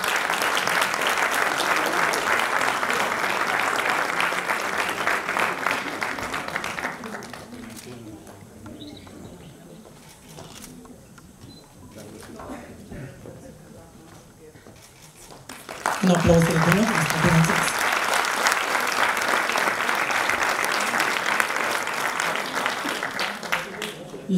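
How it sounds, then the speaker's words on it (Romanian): Loud applause from a school audience at a high school centenary celebration in Buftea, dying down to a quieter murmur of voices, then swelling again into strong, sustained clapping. "Niște aplauze mai puternice pentru doamna Pietra."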